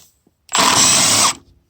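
Power tool, likely an impact gun, loosening front end bolts on a VW Transporter T4 under restoration, one loud continuous burst of just under a second rising from silence and stopping abruptly, close up, no talk.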